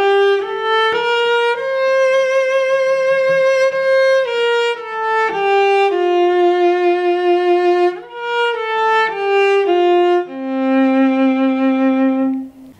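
A solo cello plays a song melody, including a small upward jump, as clear sustained bowed notes of varying length, close and loud, with brief gaps between phrases and a final long held low note.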